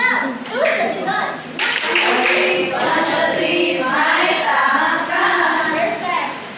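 Classroom of students clapping hands together, a brief rhythmic burst of claps mixed with children's voices and a teacher talking over them.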